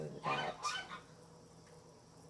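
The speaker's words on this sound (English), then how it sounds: "Now you'll be able to hear my geese." Geese honk a couple of times outside a kitchen window, two loud nasal calls near the start, then a quieter background as a person speaks briefly.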